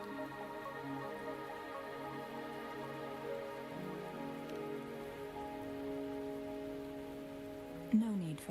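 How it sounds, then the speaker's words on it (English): Rain falling steadily in the video game Wuthering Waves, a soft continuous patter on surfaces beneath sustained musical tones, with a brief sharper sound near the end. "Are you trapped here by the rain?"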